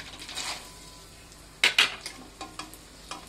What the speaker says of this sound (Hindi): अब हम बादाम को तल लेते हैं।